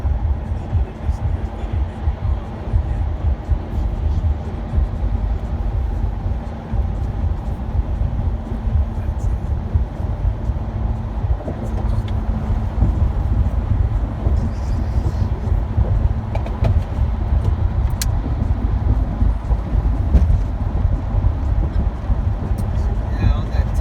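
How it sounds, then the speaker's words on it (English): Inside a moving airport shuttle van, a steady low road rumble and engine drone carry on throughout, with people talking over it. "the car's moving"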